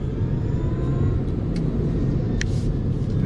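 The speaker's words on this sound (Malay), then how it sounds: "Kereta ni bila kita nak merge dengan traffic cukup sedap, power banyak, torque banyak," A car pulls into traffic on a road, its engine a steady low rumble heard from inside the cabin, with mild acceleration and faint road noise and no talking.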